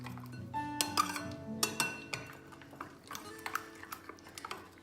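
A spoon stirs tandoori chicken marinade in a bowl, making irregular clinks and taps against the bowl with soft scraping between, fairly quiet and close, with faint tonal sounds early on.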